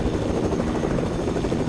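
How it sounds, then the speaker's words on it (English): A damaged helicopter flies in a video game, its rotor and engine a loud, steady, unbroken drone that fills the whole moment without any talk over it. "My helicopter's about to blow up."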